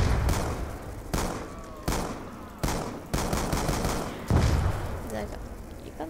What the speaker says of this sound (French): Il est pas mal ce fusil à pompe.